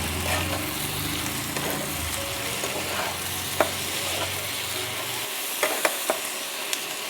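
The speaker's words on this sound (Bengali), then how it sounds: "একটু নাড়িয়ে দেব" Garlic prawns frying in a pan sizzle steadily while being stirred, with a few sharp spoon clinks against the pan near the end.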